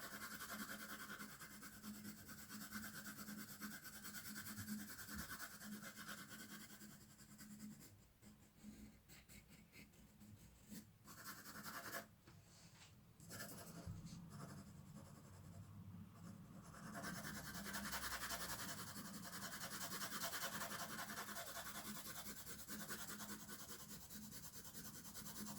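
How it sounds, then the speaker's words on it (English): H pencil shading on paper, a steady soft scratchy rubbing of graphite strokes that continues close and even, briefly thinning for a few seconds midway before resuming. "So I'm using here H pencil."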